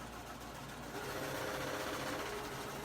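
A sewing machine stitching a plain 5/8 inch seam on a zipper project, a continuous close mechanical whir that gets slightly louder partway through, no voices.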